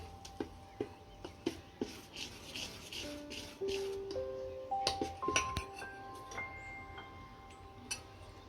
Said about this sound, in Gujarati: હવે આને આપણે બેટરમાં નાખી દઈશું અને હલાવી નાખીશું